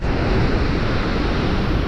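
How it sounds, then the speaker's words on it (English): Waterfall on the Cheslatta river, heard as a loud, continuous broadband roar of rushing water with no breaks or voices. "Let's go over and have a look at the falls."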